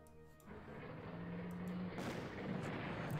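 Artillery fire in the Panzer Corps World War II strategy game, a deep rumbling boom that swells after a brief tone and holds as a sustained roar of blasts.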